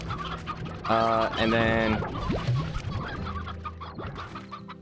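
Chickens in the Slime Rancher video game cluck in short, loud, close bursts, with brief talk at the start.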